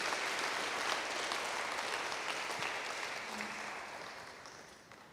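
A church congregation applauds steadily, a dense, sustained wash of clapping that fades slightly toward the end, with no speech over it.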